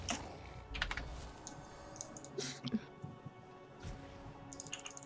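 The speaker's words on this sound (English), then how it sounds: "The clicking is so loud." Computer keyboard typing during an online game, irregular bursts of faint clicking keystrokes with occasional quiet voices in the background.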